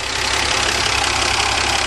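A 1977 Dodge van's slant six engine idles steadily and loudly up close after a carburetor cleaning, a continuous even running drone with no talking.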